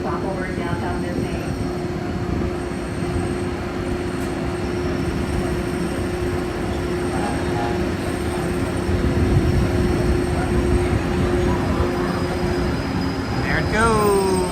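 A Disneyland monorail on round-trip service to Downtown Disney runs steadily with a continuous low rumble and hum throughout, and people talk over it.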